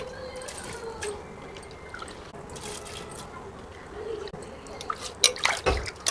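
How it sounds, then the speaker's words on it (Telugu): Drained, soaked basmati rice goes into a pot of boiling water for Nellore-style prawn biryani, with bubbling water, soft drips and splashes, and a few sharper clinks near the end. "ఇప్పుడు వీటిని వడకట్టినట్టు వేయాలి, నీళ్ళతో వేయకూడదు. ఈ విధంగా వేసేసుకోవాలి."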